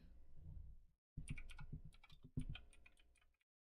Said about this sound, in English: now I'm typing